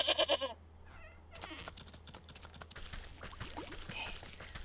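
A goat in the video game Wytchwood bleats in short wavering bursts at the start, followed by soft game sounds and clicking.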